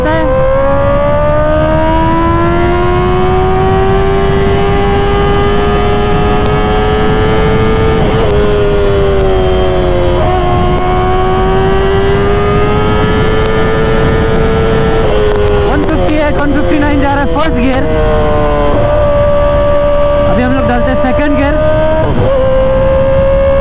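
Kawasaki ZX10R sportbike fitted with an SC Project exhaust pulls hard in first gear on an open road, its loud engine note rising steadily with a brief dip and recovery, close and continuous, with wind roar beneath.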